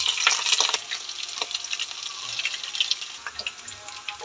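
Garlic and onion sauté in a pan for a dish of fried squash blossoms and egg, giving a steady close hiss and crackle with scattered sharp pops and a watery sizzling texture, no voices.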